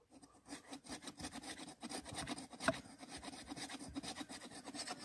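A hand saw rasps through wood in quick, repeated back-and-forth strokes, close and fairly quiet, with no talking.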